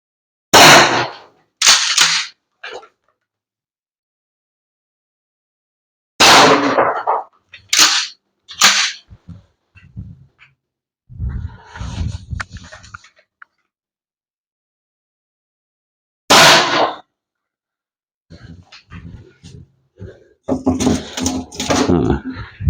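Umarex HDX 68-calibre pump-action airgun shotgun firing through a chronograph: a few sharp, loud shots in separate bursts, each with clacking pump-action handling, and someone talking between them.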